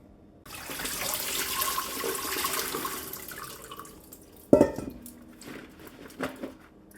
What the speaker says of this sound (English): we'll just go ahead and get a strainer out, and we'll dump the water out